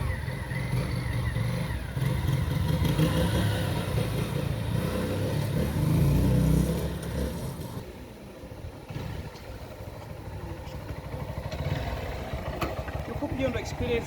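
A Honda CB190R motorcycle being ridden, its engine droning steadily under a rider's talk, with a rise in revs early on before it settles lower.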